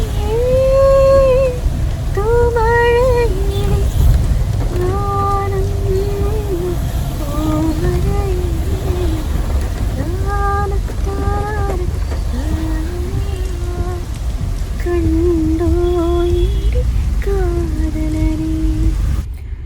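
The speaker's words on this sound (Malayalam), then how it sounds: "മഴ ഈ അടുത്ത കാലത്തൊന്നും മാറുമോ തോന്നുന്നില്ല" Heavy rain falls steadily outside as a dense, even wash of sound that runs the whole time, with a melodic tune playing over it.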